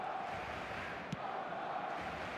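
A stadium crowd in the eFootball video game roars as a steady, distant wash of cheering and chanting, with one brief sharp knock in the middle.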